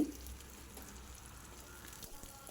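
Beans frying in a pan with curry leaves give a faint, steady sizzle and crackle, close by and quiet, with no voice over it.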